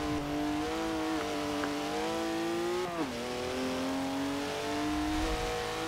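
A race car engine in a racing video game roars steadily, its pitch rising and dipping as the car is driven hard through corners on a wet, aquaplaning track, loud and continuous with no talk.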